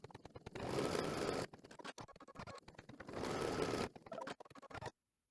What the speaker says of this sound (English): we are ready to stitch the placement line for our towel